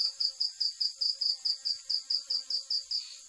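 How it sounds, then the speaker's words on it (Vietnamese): Bees kept from a colony taken off a utility pole, flying out at night toward lamp light; a steady series of rapid pulsing buzzes repeats about six times a second, moderately loud and close, with no voices. "bạn nghe thấy tiếng ong đấy, những con ong nó bay ra mà không vào được theo ánh đèn đấy"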